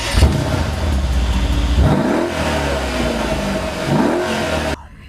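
A 2012 Mercedes SL63 AMG with its bi-turbo engine revs loudly and close by, rising twice in sharp throttle blips over a steady rumbling idle before cutting off abruptly.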